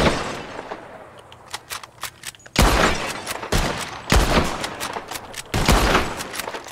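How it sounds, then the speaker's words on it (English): Gunfire rings out in Red Dead Redemption 2 as players shoot bottles in a contest: a handful of loud, sharp shots with quieter cracks between, spread unevenly over several seconds. "Whoever shoots more of these bottles wins."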